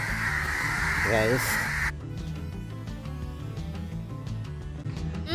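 A single harsh caw sounds early at moderate distance, over continuous background noise and low humming, with no further calls.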